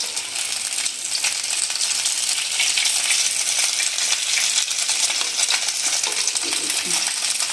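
Potato and Maggi cutlets frying in hot oil, a steady dense crackling sizzle held at an even loudness throughout, close and alone with no voices.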